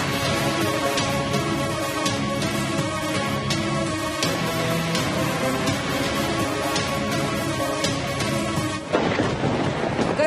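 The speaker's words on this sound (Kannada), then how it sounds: "ಕರ್ನಾಟಕದ ವಿವಿಧೆಡೆ ವರುಣನ ಅಬ್ಬರ, ಮಳೆ ರಗಳೆ ಅವಾಂತರಗಳ ಸರಮಾಲೆ." Heavy rain pours steadily during a thunderstorm in Bengaluru, with low rumbles of thunder under the constant loud downpour. The rain roars without a break until a short change near the end, and no one speaks.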